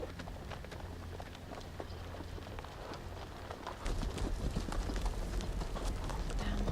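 Steady clip-clop of horse hooves trotting along in Telltale's Game of Thrones video game, with continuous rain-like ambience that grows louder partway through; no talking.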